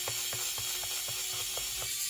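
Steady ratchet screwdriver clicks, about eight evenly spaced ticks, as a screw is backed out of an Asus CX110CM laptop, close and quiet over a constant background hiss.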